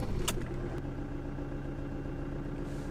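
A van engine with a faulty EGR valve runs at a steady, even idle after a short click near the start, with no one talking.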